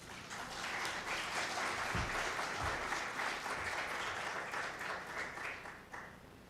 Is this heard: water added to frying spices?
no